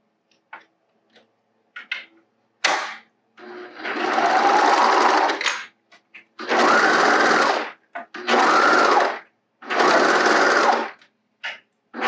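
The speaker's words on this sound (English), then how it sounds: "we're just gonna stitch this U shape right here again for the other leg" A home sewing machine stitches the U-shaped leg seam of boxer briefs in four separate runs of close, steady whirring, with small clicks and handling noises in the quiet gaps between.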